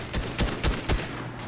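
Gunfire in the Fortnite video game, a quick burst of about four sharp shots spaced roughly a quarter second apart, loud and close, with no talking.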